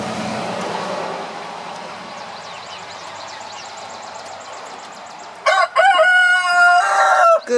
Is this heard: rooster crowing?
yes